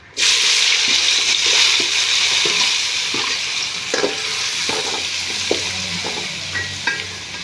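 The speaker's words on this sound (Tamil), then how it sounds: "நல்லா பொறிஞ்சிடுச்சு இப்போ வந்து வெங்காயம் போட்டுக்கோம்" Sliced onions fry and sizzle in hot oil for a Tamil-style chicken curry, with a steady close sizzle and repeated scraping clicks of stirring throughout, without voices.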